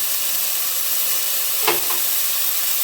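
Kashmiri chili powder sizzling in hot oil for prawn biryani: a steady, loud frying hiss fills the whole stretch, with a brief stir-like clink near the middle.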